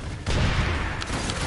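Video game gunfire in a loud, dense burst that kicks in after a brief quieter moment and rattles on continuously with booming low rumble.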